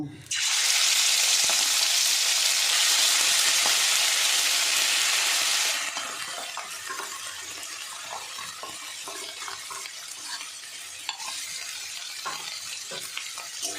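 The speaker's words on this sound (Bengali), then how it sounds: "মশলা মাখা চিংড়ি মাছটা আমি এই তেলের উপরে দিয়ে দেব।" Spiced prawns hit hot oil with a loud, dense sizzle that holds steady for several seconds, then drops to a quieter crackle with scattered stirring scrapes.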